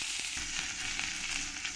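Chopped onions fry in hot oil in a pan, giving a continuous soft sizzle with faint crackles, fairly quiet and close, with no voices.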